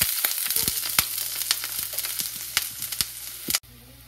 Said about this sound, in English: Also going to throw in a dab of garlic. That's going to go into the saucepan first and soften up.